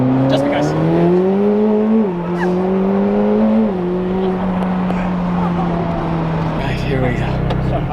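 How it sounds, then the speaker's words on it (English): A McLaren Senna hypercar engine droning while driving, with a strong tonal hum rising through gear changes and settling into a steady cruise, a voice talking over it near the end. "You feel like Batman driving this Senna"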